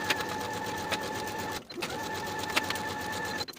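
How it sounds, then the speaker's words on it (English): A sewing machine stitches the center front lining seams of a pinafore dress, a steady close whirring run that pauses briefly midway and stops again near the end. "Then sew these center front seams with a 1/2 inch seam allowance and press the seams open."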